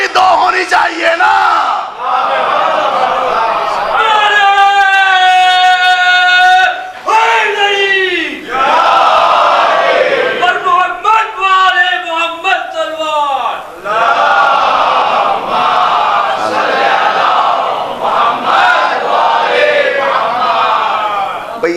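A Muharram majlis audience in Kanodar, Gujarat chants religious slogans, many voices shouting loudly in unison in repeated rising calls that fill the hall, with brief gaps between chants.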